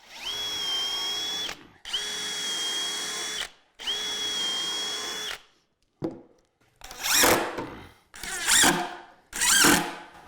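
A power drill drives screws into 3/4 inch plywood for a media cabinet, with three steady whining runs followed by three shorter, harsher bursts as the screws bite and seat, each separated by brief silence.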